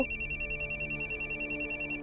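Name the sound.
phone ringing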